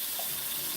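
Hands are washed under a running tap into a filling sink, a soft, steady splash and hiss of water that stays fairly faint and constant throughout.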